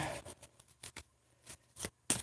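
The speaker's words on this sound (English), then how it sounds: "Let me shuffle these up a little bit." Soft, irregular riffling bursts of cards being shuffled, several short flurries close up with quiet gaps between them.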